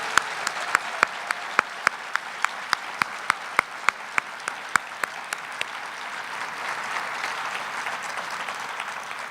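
Distinct, evenly spaced claps ring out at the Ronald Reagan Presidential Foundation scholars awards dinner, a steady rhythmic series over about five seconds over a softer crowd wash that lingers afterward.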